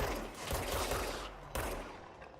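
Gunfire in the video game Control comes as dense, loud rapid bursts, close and continuous, with a sharp break partway through.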